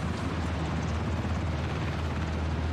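A helicopter in a video game idles or hovers nearby, producing a steady, dense low rotor thrum at an even level that runs unbroken through the whole clip without speech.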